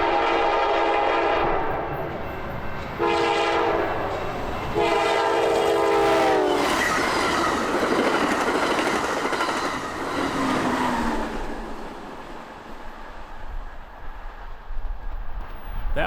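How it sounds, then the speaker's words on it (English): Amtrak 505 Cascades passenger train rolls past on BNSF tracks in Bucoda, its horn blaring in several long blasts, followed by the rumble and clatter of cars fading into the distance. "That was Amtrak 505 on the Cascade service"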